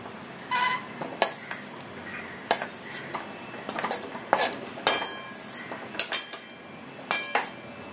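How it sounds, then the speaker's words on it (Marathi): Dry fruits and poppy seeds being roasted in ghee in a pan for ukadiche modak filling, with a steady run of sharp spoon scrapes and clinks against the metal pan and a faint sizzle beneath. "फक्त थोडं खसखस आणि ते मिक्स होईल एकदम तुपात भाजून घ्यायचं"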